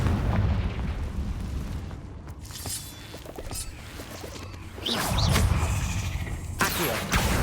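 A Confringo spell explodes in the video game Hogwarts Legacy, heard as loud, bursting booms with crackling debris over a continuous rumbling game soundscape, one blast swelling midway and lingering.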